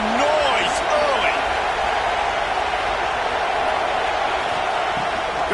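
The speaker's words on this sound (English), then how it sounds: "This crowd bringing the energy and noise early" A steady wash of stadium crowd noise fills a Clemson vs TCU football game, a dense, continuous roar heard under a commentator's voice.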